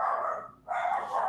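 Excited pet dogs barking indoors, a couple of sharp close barks separated by a brief pause, loud and alone with no talk over them.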